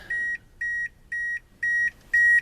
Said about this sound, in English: close the door so it'll quit beeping